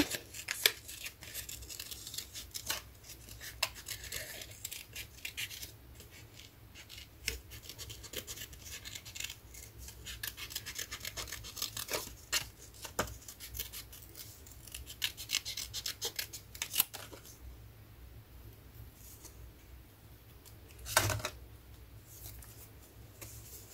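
Scissors cut all around a shape, a long run of close, quiet snips and papery scratches in an irregular rhythm, with one sharper knock near the end.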